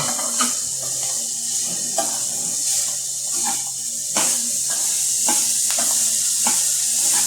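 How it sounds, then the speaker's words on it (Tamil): Carrots and onions being stirred in a pan, with a continuous sizzle and repeated spoon or spatula scrapes and clacks at an irregular pace, close and fairly loud. "அதனால் முதல்ல நல்லா கேரட்டெல்லாம் அந்த வெங்காயத்தோட கிளறி எடுத்துக்கணும்"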